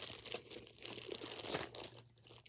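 A Nerd Rope candy package, very berry flavor, is torn and crinkled open close up, giving continuous rustling plastic crackle with uneven bursts over a few seconds and no talking.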